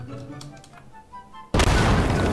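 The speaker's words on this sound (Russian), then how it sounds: "Во, вот это эпичный взрыв." An SC-250 bomb detonates in the sandbox game Garry's Mod, a sudden loud roaring blast that cuts in after quieter game sounds and keeps rumbling as a dense wall of noise.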